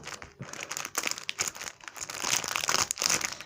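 Plastic packaging on a bag painting kit crinkles and rustles continuously as it is handled and pulled open, close by with no talking.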